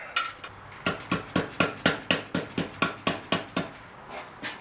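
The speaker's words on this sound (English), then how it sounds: "I guess now we're taking a little bit of a hammering action to my new bike." Steady metallic hammer strikes on a part of a new Indian Scout motorcycle, about a dozen evenly spaced clangs, close and fairly loud with a ringing tone.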